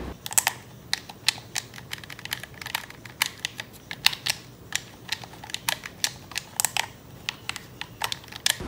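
Buttons on a Sony PlayStation 3 Super Slim CECH-4002A controller pressed in quick succession, giving sharp plastic clicks in an irregular rhythm, close and fairly quiet, with no talk.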